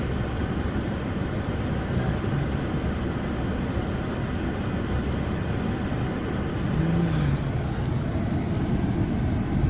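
A vehicle drives along a road near Land Between the Lakes, giving a steady, continuous rumble of engine and road noise that holds at an even level throughout, with no talking.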